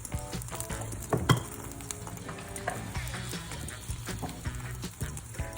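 An egg, turkey and cheese breakfast taco topped with a tortilla sizzles steadily in a pan, with a few sharp clinks and scraping knocks near the start and occasional soft taps throughout.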